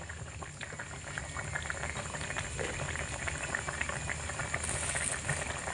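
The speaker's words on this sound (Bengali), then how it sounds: "গ্যাসটাকে মিডিয়ামে রেখেই কিন্তু এটাকে মোটামুটি দুই থেকে তিন মিনিট মতো একটু ফুটিয়ে নিতে হবে" Gravy with potato, paneer and papad boiling over a medium gas flame, a dense, continuous bubbling simmer that holds steady and close throughout.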